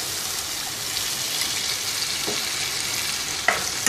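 Chicken karahi spices sizzle and fry steadily in a pan as a little water is added, a continuous close hiss with a couple of brief sharper spatters near the end.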